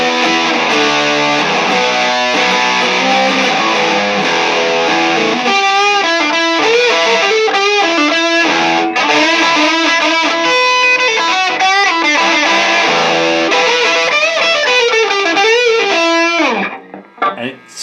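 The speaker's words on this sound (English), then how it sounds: "Let's see what the Rat sounds like with half the distortion." Electric guitar through a Pro Co Rat distortion pedal set to half distortion, playing loud, continuous gritty chords and quicker melodic runs, steady in level until it stops suddenly near the close with a couple of short stray notes.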